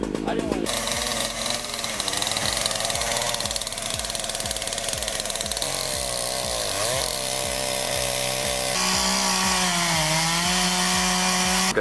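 A chainsaw runs steadily while cutting a tree of long dead wood, its loud droning engine persisting throughout with repeated revving pulses and pitch dips near the middle.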